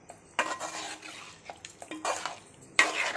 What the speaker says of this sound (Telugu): ఒకసారి తిప్పుకోండి.